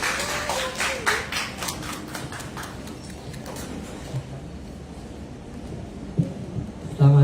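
Audience applause at a film cast reveal event: a burst of clapping from a crowd that thins out within a few seconds, followed by quieter room noise and a few stray sounds.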